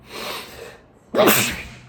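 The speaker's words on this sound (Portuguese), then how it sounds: "Eu acho que eu vou espirrar." A person sneezes once: a breathy intake builds over the first moments, a brief pause follows, then a sharp, forceful burst of sneeze about halfway through that trails off.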